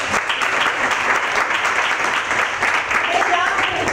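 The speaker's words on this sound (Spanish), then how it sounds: "Así que un aplauso también para ella." Audience applause for a dancer who is an artist, a dense steady clapping that fills the whole stretch from start to finish with no break.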